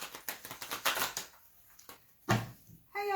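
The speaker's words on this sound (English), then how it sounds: "I need to shuffle." Tarot cards are shuffled up close in quick, irregular riffles and flicks that fade into brief taps, then a short voice at the end.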